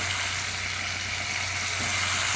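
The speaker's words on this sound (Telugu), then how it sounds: "ఇవి కూడా పచ్చి వాసన పోయినంత వరకు ఇందులో వేగించుకోవాలండి టమాటా కూడాను" Small tomato pieces, two tomatoes' worth, frying in oil in a pan for a curry, giving a steady, even sizzle that runs unbroken and fairly close throughout.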